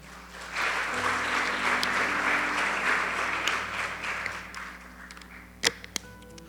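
A church congregation applauds, a broad wash of clapping that swells in and holds for several seconds before fading, followed by a couple of sharp isolated knocks near the end.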